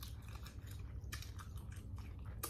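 Jumbo shrimp from a seafood boil being chewed close to the mic, soft wet bites and smacking at a steady pace, faint with no talk.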